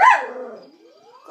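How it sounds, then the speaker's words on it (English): A small pet puppy gives a loud, close bark, then a thin whine that rises in pitch and a second short yelp at the end. "my little puppy"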